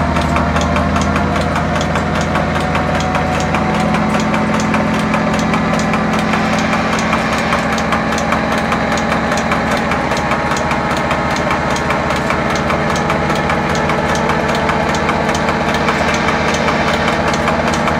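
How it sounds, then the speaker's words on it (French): A 1964 diesel locomotive with a 2750-horsepower engine runs at a railway museum, giving a loud, steady, close-up engine drone with a knocking pulse that holds unbroken for the whole stretch. "Alors le moteur, il fait quand même 2750 chevaux"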